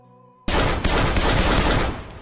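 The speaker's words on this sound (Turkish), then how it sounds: "Silah sesleri hala gözümün önünden gitmiyor." Dense, sustained burst of gunfire from the mobile game PUBG Mobile, loud and continuous with sharp onsets, breaking in abruptly after a quiet tonal passage and running to the end.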